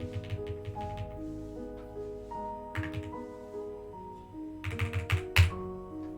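Typing on a mechanical keyboard, close and fairly faint, with irregular bursts of clicky keystrokes over a quiet backdrop of soft tonal music.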